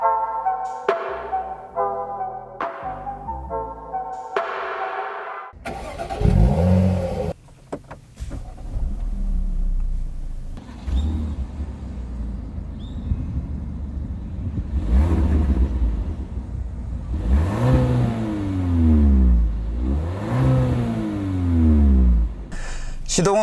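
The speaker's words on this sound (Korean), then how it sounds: "주행을 위해 시동을 걸겠습니다." A 2020 Kia K5 with a 1.6-litre turbo engine starts up and runs, settling to a hum with a few rising revs, heard under someone talking throughout.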